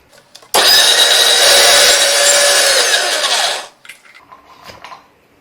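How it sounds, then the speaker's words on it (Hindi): A blender whirs loudly and steadily for about three seconds, blending hummus ingredients with roasted cumin powder and olive oil, then stops abruptly, leaving faint clinks and handling noises. "अब इन सबको अच्छे से ब्लेंड करेंगे।"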